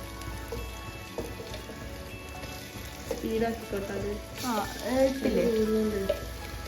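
Marinated chicken frying in a pan, a steady crackling sizzle running throughout, swelling louder toward the end as pieces go in, with voices talking over it.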